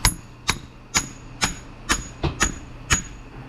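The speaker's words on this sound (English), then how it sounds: "dead blow hammer" A dead blow hammer drives a hydraulic hose fitting into place with eight evenly spaced, dull thuds at a steady rhythm, close by in a quiet shop.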